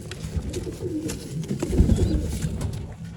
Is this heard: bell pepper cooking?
no